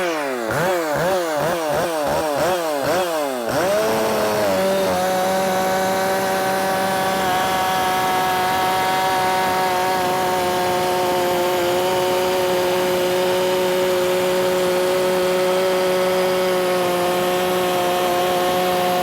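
A ported Echo chainsaw, either a 590 or 620, blips through several quick revs, then holds a loud, steady, high-pitched scream at full RPM, running alone without talk.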